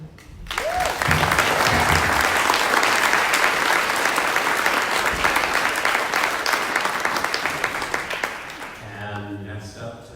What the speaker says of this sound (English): all of us, we applaud, appreciate, and celebrate Mike, our boss and our friend